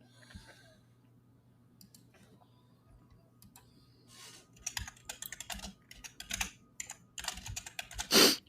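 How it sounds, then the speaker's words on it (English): Computer keyboard typing, soft scattered keystrokes at first, then louder rapid bursts of clattering keys in the second half ending in a sharp clack, close to the mic with a low hum beneath. "Oops, I just typed really loud."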